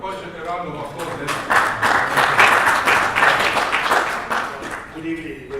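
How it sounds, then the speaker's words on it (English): Applause from a seated audience at an African mining conference event for a speaker taking the floor, a steady crowd clapping that swells and fades over several seconds with faint voices underneath. "Let's give Kojo a round of applause."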